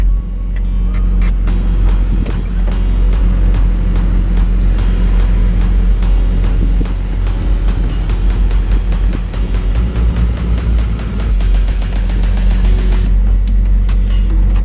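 A 1991 Mazda Miata engine idles high with the air conditioning running, a loud, steady close-up drone with a fast, regular ticking pulse throughout and no voices.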